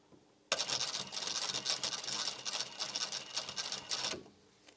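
A sewing machine runs in one steady, rapid burst lasting about four seconds, stitching back over the pleats of a fabric face mask. The whirring is fairly close, with quiet at either end.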